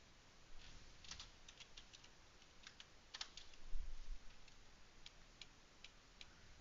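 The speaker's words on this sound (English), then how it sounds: "I'm just clicking like I'm playing." Rapid keyboard and mouse clicks during a Diablo 4 gaming session, with a Lightning Spear Sorcerer build, come as faint, irregular ticking taps in scattered bursts over a quiet background hum.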